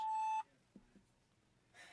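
A phone voicemail beep signals the start of recording: one steady, loud electronic tone lasting under half a second, then near silence with faint handling noise.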